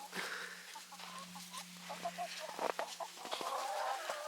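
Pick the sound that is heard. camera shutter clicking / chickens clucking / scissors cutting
chickens clucking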